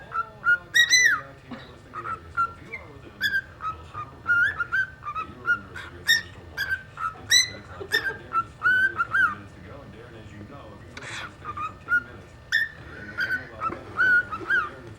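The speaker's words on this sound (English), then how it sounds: "We just had a bird sing" A bird sings the Andy Griffith theme tune, giving clear, close whistled phrases that repeat in bursts across the stretch, with faint background noise.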